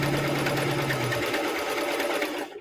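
A sewing machine stitches sweatshirt fabric in a fast, even mechanical chatter, close and loud, with a lower hum dropping away midway before the stitching stops abruptly at the end.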